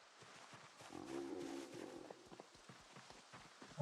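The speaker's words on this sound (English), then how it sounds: "Also, we have a horse." Horse hooves in the Project Zomboid video game, a run of quiet clip-clop steps in an uneven walking rhythm, faint and fairly close, with a brief low snort or grunt partway through and no talk.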